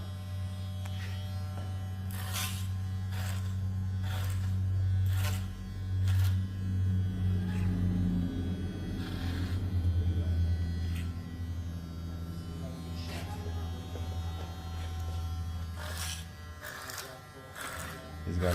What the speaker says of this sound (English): I'm going to remove the bulk with a clipper over comb